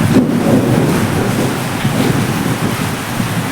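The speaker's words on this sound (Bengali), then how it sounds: "মেঘ ডাকছে" A low rumble of thunder rolls beneath steady heavy rain and wind noise, continuous with no voices.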